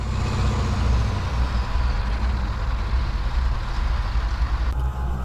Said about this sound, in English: There's no one driving that dozer right now.